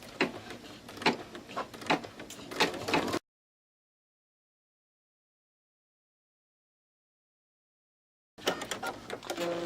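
An embroidery machine stitches fabric held in the hoop for a luggage handle wrap, giving a rapid, rhythmic mechanical chatter for about three seconds. It then cuts to silence before the stitching resumes near the end.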